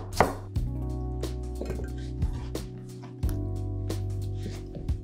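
A kitchen knife slices onions thinly on a cutting board, producing a series of crisp, irregular chopping strokes close up, with a low background hum.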